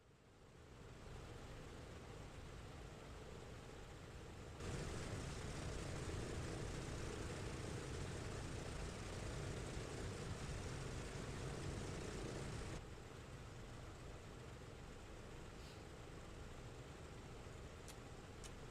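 Douglas DC-6B piston engines droning in a flight simulator, a steady broadband rumble that swells louder for several seconds mid-clip before settling back to a constant hum, with no voices.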